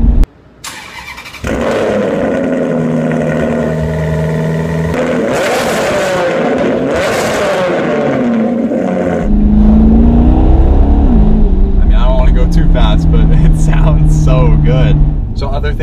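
A Maserati GranTurismo MC with a muffler delete, still running through cats and resonators, starts with a sharp bark, then idles and revs with a deep growl, swelling louder near the end, close by.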